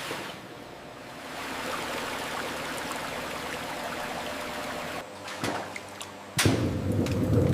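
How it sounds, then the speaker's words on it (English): Whole potatoes are washed under flowing water in a potato chip factory: a steady, rushing water noise that grows louder near the end, with no talking. "the dirt of the field must be washed away. Water and motion do the heavy lifting."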